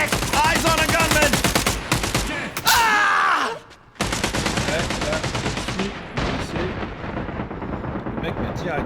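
Rapid bursts of gunfire in the tactical shooter video game Caliber, loud, dense and continuous across most of the stretch, with a brief drop-out midway before the shooting resumes.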